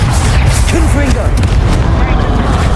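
In Hogwarts Legacy, the Confringo explosion spell rumbles with a deep, continuous boom under a person speaking, lasting nearly three seconds.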